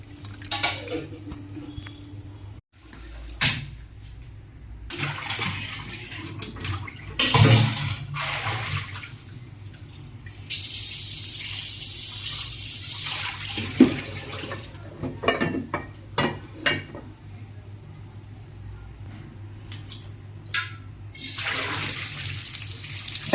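Tap water runs steadily into a kitchen sink while cleaned prawns are rinsed, with clinks and clatter of pots and utensils over the flow and a few sharp knocks.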